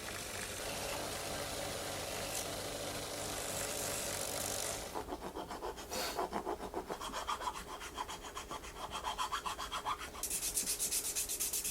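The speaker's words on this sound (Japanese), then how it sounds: "しっかりヤスリで削ってツルツルにしてから塗装をしていきます。" A wooden shoe tree is filed and sanded smooth by hand. Soft scratchy rasping comes first, then close rhythmic back-and-forth strokes, and a brief hiss at the end, with no talk.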